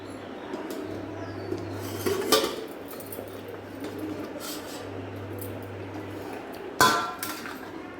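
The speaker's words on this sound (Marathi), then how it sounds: "झाकण काढून उघडून बघायचं थोडं हलवायचं आणि परत दोन मिनटं झाकून ठेवायचं" A lid comes off a pot of besan pithla, followed by stirring: two sharp metallic clanks of the lid and light scraping, over a steady low hum and faint background noise.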